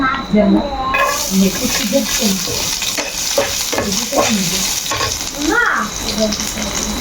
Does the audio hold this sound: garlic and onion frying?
yes